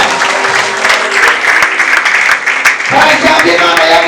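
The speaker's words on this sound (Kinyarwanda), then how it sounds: "Komera Imana amashyi menshi cyane." Church congregation applauding during a prophetic service, a dense sustained wash of clapping that continues loudly throughout with crowd noise and a voice mixed in.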